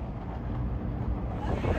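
Strong wind buffets the microphone at an NHRA drag racing track in Las Vegas, a steady low roar and rumble that fills the whole moment without a break.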